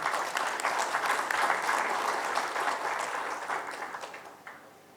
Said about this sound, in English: let's have a good clap for the idea of India